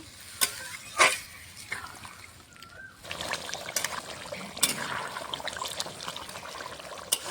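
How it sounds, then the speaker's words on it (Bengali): Hot spice-wash water is poured into a pan of mutton curry, with clanks at the start, then a trickling, bubbling and sizzling pour that carries on fairly close and moderately loud. "মশলা ধোয়া জলটা গরম করে রেখেছিলাম, দিয়ে দেবো"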